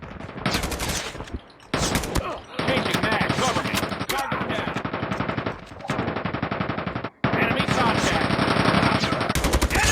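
Call of Duty gameplay gunfire rattles in dense automatic bursts, loud and close, separated by brief gaps, while a voice talks intermittently underneath.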